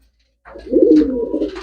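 A single pigeon coos close by, a soft throaty warble following a brief silence.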